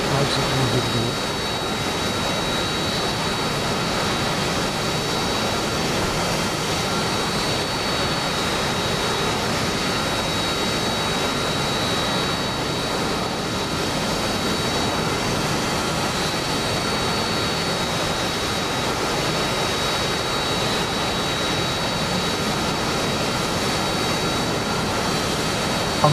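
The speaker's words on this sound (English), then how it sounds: "I've also got your engine noise because I'm actually spectating, so I've got your engine noise" Jet aircraft engine noise in the flight simulator DCS, a constant loud whining roar with a thin high tone running steadily throughout, without any speech.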